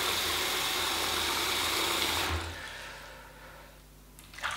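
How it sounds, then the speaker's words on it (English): A bathroom sink fills from a running tap with a loud, rushing stream of water that cuts off abruptly partway through, leaving a quiet room with a faint trickle. "I'm going to fill up the sink with water, and then I'm just going to shave from the sink."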